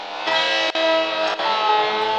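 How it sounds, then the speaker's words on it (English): Music in Reaper with the reverb send raised: loud, sustained chords with a smeared, washy tail and two brief dropouts, alone without talk. "let's dial in the amount of reverb"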